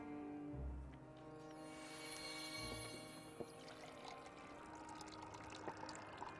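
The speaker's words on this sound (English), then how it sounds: "Oh man, a pouring SFX." Pouring sound effect in the game Final Fantasy XIV, liquid poured into a vessel: a soft, faint trickle over a sustained musical background, with a low thump near the start.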